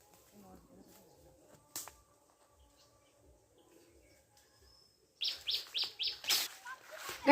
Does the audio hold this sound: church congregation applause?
no